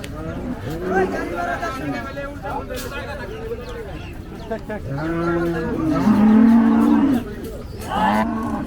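Cattle moo repeatedly at a busy village cattle market in Bangladesh, several loud, drawn-out calls, the longest near the end, over a background of crowd chatter and people talking.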